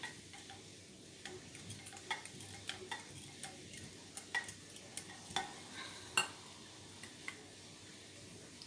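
Homemade dishwashing liquid being stirred in a container, a faint soft swishing bed broken by irregular light clicks and taps of the utensil against the sides, with no talking.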